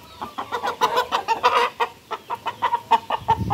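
A six-month-old chicken on bath day at a poultry breeding farm clucks in a quick series of about a dozen close, loud, evenly spaced clucks, with a faint low rustle near the end.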